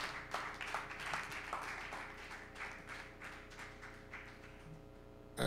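Church congregation clapping for Jesus, a quiet, steady patter of many hands at a distance, running the whole time over a faint tonal background hum.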